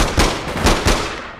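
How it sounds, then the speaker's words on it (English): Rapid bursts of gunfire in the video game APB Reloaded, loud and close, several sharp shots in quick succession with no talk over them. "I'm being shot at."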